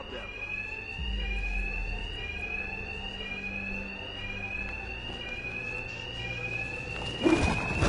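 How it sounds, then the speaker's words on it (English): A fire alarm rings in the video game Batman Arkham Knight, a loud, steady electronic tone sounding continuously throughout, with a deeper hum joining early on and a brief thump near the end. "My attacks will be covered by the noise of the alarm."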